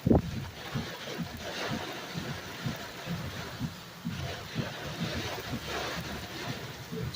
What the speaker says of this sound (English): Still about 45 to 50 mile an hour wind here.